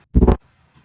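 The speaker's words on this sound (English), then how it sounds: "what I always do is a reverse of the bass to sweep us into the bass" A reversed bass sweep for a slap house or Brazilian bass track swells up loud in one short burst and then cuts off abruptly, leaving near silence.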